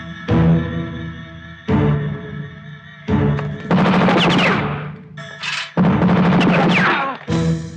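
Several bursts of rapid gunfire ring out in succession outside, loud with short pauses between volleys and a ringing, echoing tail, in a movie scene.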